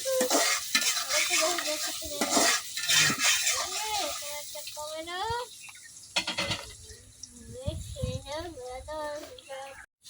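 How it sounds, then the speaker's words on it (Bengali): Onion, garlic and ginger frying in a pan for a bottle gourd curry in a village kitchen, with a steady sizzle and repeated stirring scrapes, while a person talks over much of it. "পেঁয়াজ রসুন আদা খুব ভালোভাবে বাজা নিছি"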